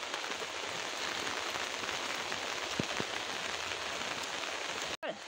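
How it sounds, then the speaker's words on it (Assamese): Steady, even rain falls after a night of continuous showers, pattering softly on nearby surfaces with a few louder drips. No voices are heard. "এফালে দেখিছনে পুৰা বৰষুণ দি আছে"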